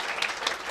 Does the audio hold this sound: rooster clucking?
no